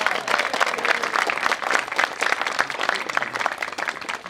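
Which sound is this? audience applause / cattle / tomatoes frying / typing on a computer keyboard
audience applause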